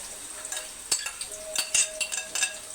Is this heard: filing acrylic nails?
no